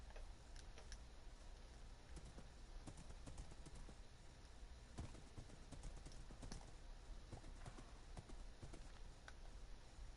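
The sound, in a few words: horse hooves clip-clopping in the video game Minecraft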